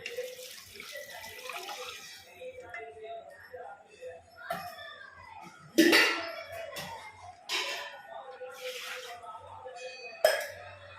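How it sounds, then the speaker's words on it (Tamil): Tamarind water splashes and trickles into a cooking pan, with scattered clinks of a utensil against metal and brief sharp knocks between pours. "புளி தண்ணி வச்சுருக்கோம் பார்த்தீங்களா அதையும் ஊற்றிக்கணும்"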